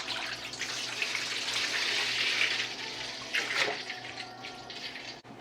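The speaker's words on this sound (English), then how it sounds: "let's put this apple cider there." Apple cider is poured from a one-gallon jug, making a continuous gurgling splash of liquid that swells and then tapers off, fairly close and alone.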